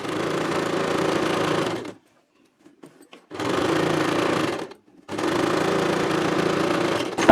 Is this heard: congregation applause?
no